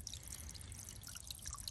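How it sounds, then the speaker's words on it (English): A small cute fountain in a garden pond trickles and drips steadily, soft close splashing with a low murmur underneath and no talking. "I've added this little soda fountain, which is very cute. It's just helping to move the water around."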